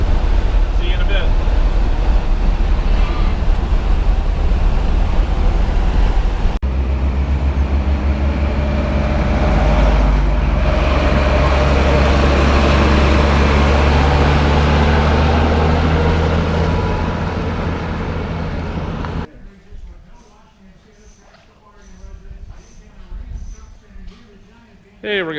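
A one-owner 1975 Ford F-100 Ranger 4x4 pickup rolls down the road, its engine and tire roar steady and loud for about twenty seconds before the noise drops away into quieter, intermittent sounds near the end.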